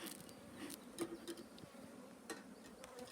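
Honey bees buzz in an opened bee colony, a continuous low droning hum of many insects with occasional louder passes close by, no voices.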